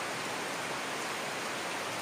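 Steady rain falls outdoors, a dense, even hiss of downpour that stays constant and fairly loud throughout, with no voices.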